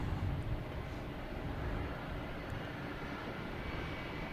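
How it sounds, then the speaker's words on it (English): A distant Embraer Phenom 300 business jet roars steadily during takeoff at Boston Logan Airport, a continuous broadband rumble with no voices. "Next taking off, we have a Embraer Phenom 300"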